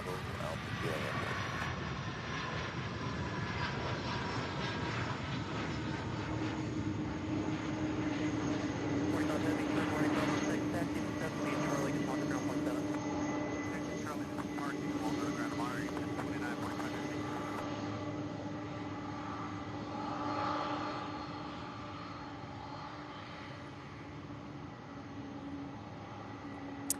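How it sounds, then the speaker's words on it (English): An MD-11 jet arriving at Louisville's SDF airport after a flight from Oakland, California, its steady engine roar sustained and fairly loud throughout, easing slightly toward the end, with radio chatter and talk layered over it. "SMD-11 arriving out of Oakland, California after a 3-hour and 28-minute flight."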